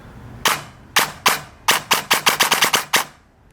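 Airsoft AEG with DSG gears on an 11.1 V 45C LiPo fires sharp, crisp cracks, starting with separate single shots, then rapid full-auto bursts of close, loud snaps with no talk.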